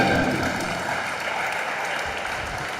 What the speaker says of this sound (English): Let's give our sponsors one more round of applause